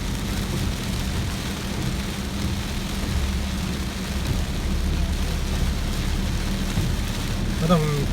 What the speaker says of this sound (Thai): ขับรถช่วงฝนตกนี่